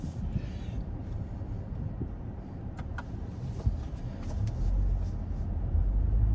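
Cabin noise from a 2023 Buick Envision ST on the road: a steady low rumble of tires and engine, with a few light clicks and rattles, building a little louder as the car picks up speed.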